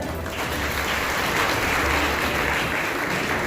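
Students in an audience applaud in a dense, sustained burst of clapping that fills the room from start to finish.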